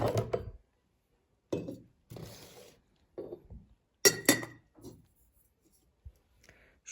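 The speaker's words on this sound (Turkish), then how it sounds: "Böyle bir lokumluk almış ama camı çok ince. Yani dikkat edilmesi gerekiyor. Şöyle açayım." A thin glass lid of a Turkish delight candy dish is lifted and set down, giving several faint, separate clinks and taps with quiet pauses between them.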